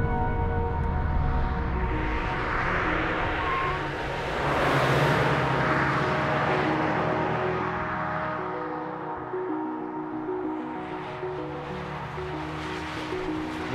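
A Mitsubishi Lancer Evolution VI Tommi Mäkinen Edition driven hard through corners, its engine droning steadily with rising and falling tone, wind and road noise mixed in, no talking.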